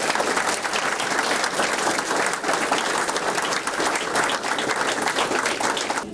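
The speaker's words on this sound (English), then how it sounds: "Let's please give them a round of applause" Sustained applause from an audience at an awards and promotion ceremony, dense steady clapping from many hands, loud and even throughout with no break.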